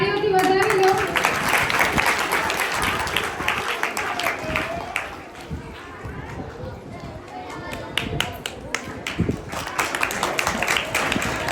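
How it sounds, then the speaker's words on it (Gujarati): An audience at a school students' camp in an ashram claps for a student called forward for an award. A dense burst of applause rises and fades amid crowd noise and a speaker's voice. "તાળીઓથી વધાવી લો."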